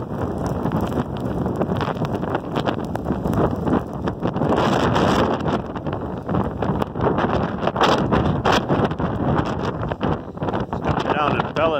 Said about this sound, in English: It's gonna get a little windy right about now.